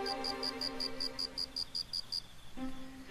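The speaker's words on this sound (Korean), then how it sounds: "우리 귀에 가장 익숙한 풀벌레 소리 중 하나인 귀뚜라미 소리다" A cricket chirping in a sparse apartment-complex flower bed at night, a close, regular train of high pulsed chirps that stops midway, over steady electrical hum and a faint low drone.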